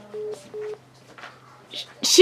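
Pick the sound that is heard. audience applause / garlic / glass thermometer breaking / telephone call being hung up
telephone call being hung up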